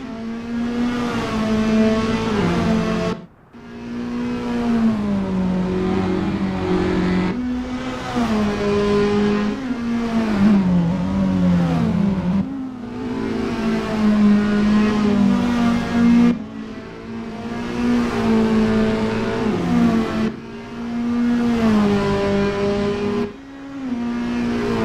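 Toyota S-FR race cars in Assetto Corsa sim racing: loud engine drones rise and fall as cars accelerate and shift, with sustained revving passes and brief gaps between them.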